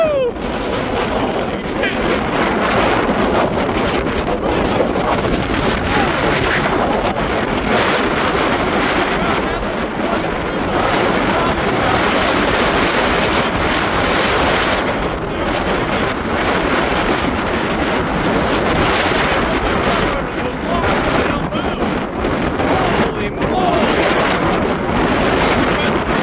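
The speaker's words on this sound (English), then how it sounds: "It's still pretty windy and very foggy up here" Loud, continuous wind on a foggy Pacific Northwest mountain roars and buffets the microphone throughout, with gusts rising and falling in rough, dense bursts.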